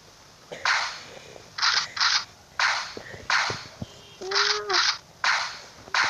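Repeated gunfire bursts in the video game Chicken Gun, about nine short crackling shots at an irregular rhythm, each fairly loud, with a faint voice underneath.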